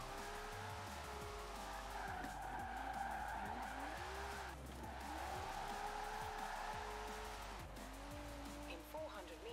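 Nissan S13 wheels spinning and tires squealing in Forza Horizon 4, a loud continuous skid over revving engine, with speech underneath.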